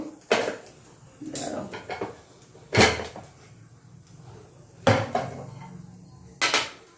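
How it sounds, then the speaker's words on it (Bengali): A metal idli stand being greased with oil. Five or six sharp metallic clanks and scrapes of the stand and utensils come at irregular intervals, close by, with quiet pauses between them. "আর যে ইডলি স্ট্যান্ড এই যে একটুখানি তেল নিয়ে নিয়েছি এটাতে একটু তেল ব্রাশ করে দেবো"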